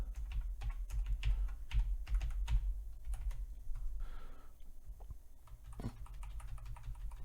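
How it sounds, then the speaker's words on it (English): Fingers type on a computer keyboard at a desk, a close, quiet stream of uneven clicky keystrokes with a short pause midway before a few more taps. "I'm going to type"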